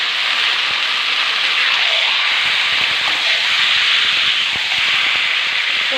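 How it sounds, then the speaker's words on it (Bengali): Marinated chicken pieces dropped into hot oil for a spiced chicken kasha, giving a steady, loud broadband sizzle with scattered crackling pops throughout, close and continuous with no voices. "এবার এই ম্যারিনেট করা চিকেনটা আমি তেলের মধ্যে দিয়ে দেব।"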